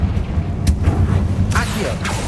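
The Confringo fire-blast spell in the Hogwarts Legacy video game lands as a few sharp bursts and booming impacts over a steady low rumble, with a game voice speaking alongside.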